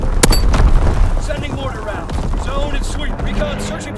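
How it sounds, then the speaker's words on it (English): Mortar rounds exploding in Call of Duty: WWII multiplayer, a loud sharp boom early on followed by rumbling blasts and battle noise with in-game radio voices speaking over it. "Sending mortar rounds."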